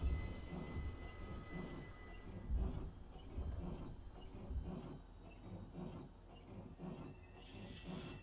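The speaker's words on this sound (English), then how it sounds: "Train has stopped." A train in the Train Simulator Classic game slows and comes to a stop, with a steady low rumble, soft hiss and faint rhythmic clunks of wagons, ending in a quiet brake hiss.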